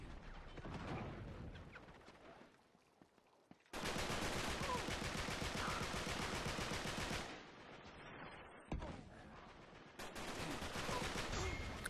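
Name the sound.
gunfire in video game Uncharted 3 multiplayer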